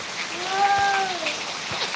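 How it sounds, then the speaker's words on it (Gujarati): Heavy rain falls in a steady, hissing wash, with a faint tonal whine drifting through the middle. "એટલો બધો વરસાદ આવે"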